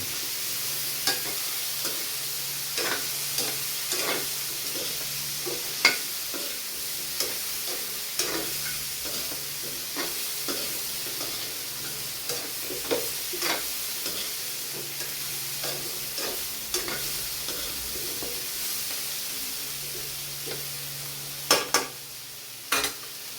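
Mixed vegetables sautéed in a pan for Filipino ginisang gulay, with a soft continuous sizzle and frequent light clicks and scrapes of stirring near the end, with no voices.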